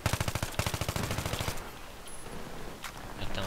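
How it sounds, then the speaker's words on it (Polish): Rapid machine-gun bursts rattle in the video game Battlefield 3, a fast, even string of fairly close shots lasting over a second, then fading into quieter distant battle noise with a couple of scattered shots. "O, skąd to strzelało?"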